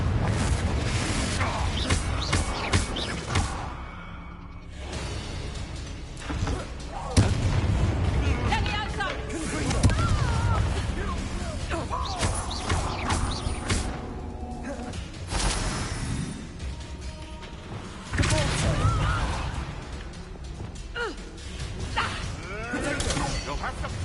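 Confringo blasting-spell explosions in the Hogwarts Legacy video game, loud booming blasts and whooshes repeating through a busy magical duel, layered with a game soundtrack, with voices shouting and speaking over the combat.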